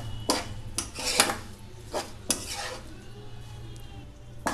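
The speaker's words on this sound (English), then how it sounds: "By covering the lid of the pan, occasionally we have to stir all of them." A spoon clanks and scrapes against a pan while a jaggery and coconut mixture is stirred over a low flame, making several sharp metallic knocks spaced irregularly above a soft, steady sizzle, with no voices.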